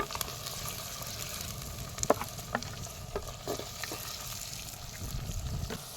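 Cashews, about fifty grams, sizzle and fry in hot oil in a pan alongside chilies and onions, a steady crackling hiss with a few scraping stirs, no talking.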